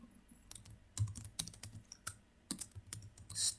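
Code is typed on a computer keyboard in short bursts of crisp, close key clicks with brief pauses between groups, heard alone with no talking.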